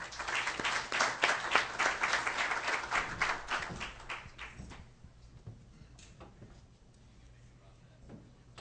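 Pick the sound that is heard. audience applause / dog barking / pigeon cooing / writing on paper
audience applause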